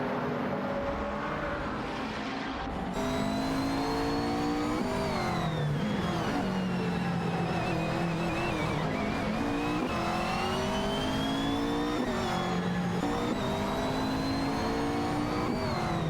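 A racing car engine roars and accelerates away on a racetrack, a loud sustained drone with repeated rising revs and gear changes that shift pitch over about sixteen seconds, with no voices.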